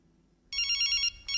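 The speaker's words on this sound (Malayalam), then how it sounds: "Whose phone is that?" After a short silence, a mobile phone's electronic ringtone starts up loudly in a classroom scene from a movie. It plays a bright, repeating melodic pattern, breaks off briefly, then starts again.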